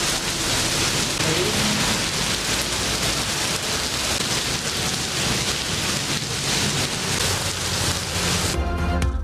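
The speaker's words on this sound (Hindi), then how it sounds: "इस्लामाबाद, रावलपिंडी में सुबह सवेरे बादल जमकर बरसे।" Heavy early-morning rain pouring down over Islamabad and Rawalpindi, a loud, continuous wash of rain on surfaces with no break, ending in a brief change of tone.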